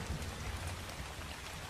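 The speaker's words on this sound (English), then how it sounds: "It's raining inside of the hut." Steady broadband rain hiss inside a hut in Ark: Survival Evolved, a constant wash of drops with a low rumble underneath, moderately quiet and unbroken throughout.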